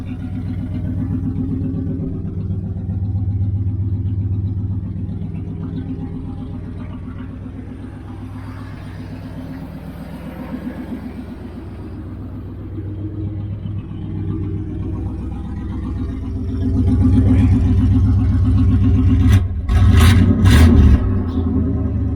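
A car engine idles steadily after a new gas tank and trunk pan install, a low close rumble that rises into a louder rev near the end, joined by a few sharp clatters.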